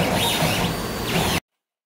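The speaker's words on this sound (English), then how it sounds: "And I'm laser cutting on a honeycomb vacuum hold down." A laser cutter working on wood marquetry over a honeycomb vacuum hold-down bed, giving a steady, loud whooshing hiss with a faint whine that stops abruptly.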